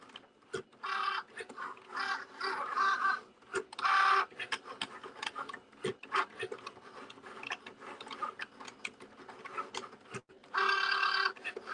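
An electronic cutting machine slices paper while the project progresses, giving a steady mechanical whirr with repeated short bursts of louder motor movement and faint clicking, close by with no talking.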